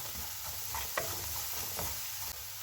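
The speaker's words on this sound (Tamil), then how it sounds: "இப்போ இந்த ரசாப்பொடி நல்லா வதங்கி வந்திருக்கு" Rasam powder sautéing with onions in a pan for paruppu rasam, a steady close sizzle with a few soft scraping stirs, no voices.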